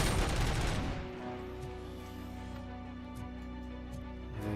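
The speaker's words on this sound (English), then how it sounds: "Oh, that's a machine gun." Machine gun fire from the RoboCop video game comes as a dense, loud burst that stops after about a second. Electronic game tones and faint blips continue afterward.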